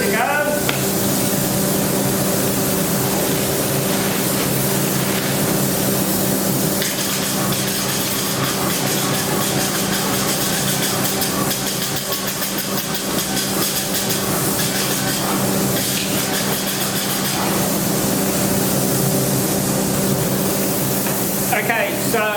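A Graco E-10HP airless spray gun hisses continuously as paint is stippled, with a steady broad spray noise and a few brief dips, close and loud throughout.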